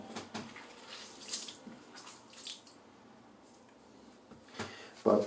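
Tap water runs briefly while a man prepares to wet his shaving gear, with a soft spattering flow near the sink and a louder splash at the end.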